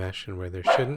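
A dog barks several short, sharp times close by while a person keeps talking over it.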